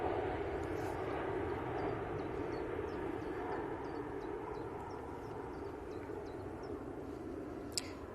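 An Emirates Airbus A380 jet takes off, producing a steady, loud broadband engine roar that holds throughout and eases slightly toward the end.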